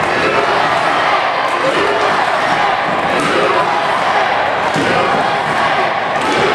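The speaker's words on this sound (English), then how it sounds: "The crowd chanting USA." At a pro wrestling match, the arena crowd chants and roars throughout, a loud rhythmic wash of voices punctuated by thuds from the ring, with an announcer talking over it.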